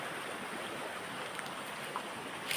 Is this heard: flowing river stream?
yes